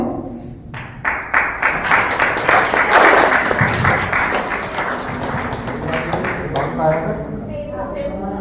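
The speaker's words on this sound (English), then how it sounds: "Give him a big round of applause" Guests at a retirement party clap as Satish is called on stage, scattered claps building into a fuller round under loud overlapping talk and chatter close by.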